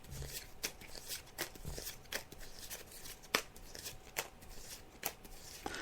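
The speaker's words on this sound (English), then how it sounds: "So I'm just shuffling the cards now, Nicole" Tarot cards are shuffled close by during a psychic reading, with a steady run of crisp riffling flicks and soft slaps repeating for several seconds and no voices.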